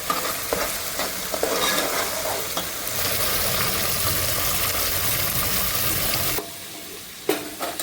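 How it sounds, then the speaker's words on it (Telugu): A green herb paste for green pulao sizzles steadily as it fries in a pan, with stirring scrapes through most of the stretch and a quieter pause near the end. "ఈ పేస్ట్, ఈ గ్రీన్ పేస్ట్ మొత్తం బాగా ఫ్రై అయింది."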